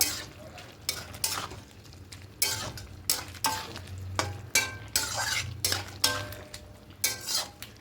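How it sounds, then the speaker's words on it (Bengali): Shrimp with spinach and potato being stirred in a pan, a steady run of spatula scrapes and clacks repeating about once a second over a low background sizzle, close and clear with no voices. "এবার ভেতরে একটা চিংড়ি মাছগুলো দিয়ে দেবো খুব ভালো করে মিশিয়ে নেব"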